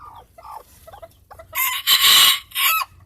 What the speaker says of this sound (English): it's actually my lemon blue sport hen.